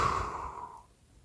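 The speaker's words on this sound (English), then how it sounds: "breathing out through the mouth" A single soft exhale pushed out through the mouth, breathy and close, tapering off into near silence within a second.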